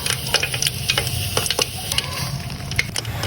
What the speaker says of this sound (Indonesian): Kemudian aduk hingga stearin larut ke dalam minyak.